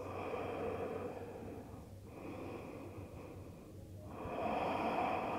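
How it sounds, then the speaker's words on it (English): Deep, slow restorative breaths during a yoga session, taken while lying with the forehead on the floor: a quiet, airy hiss of inhales and exhales that swells and eases in long waves with no talking. "Take a couple of restorative breaths."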